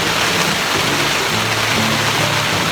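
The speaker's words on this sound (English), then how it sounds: "Having to scream because it's just raining so loud." Heavy rain drumming on a camping tent during a storm, a dense, loud, continuous hiss and patter that fills the whole stretch without pause.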